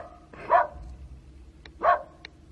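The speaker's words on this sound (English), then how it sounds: "There is a dog barking me." A dog barks twice on a Warsaw street, two distinct moderately loud barks about a second apart over low background noise.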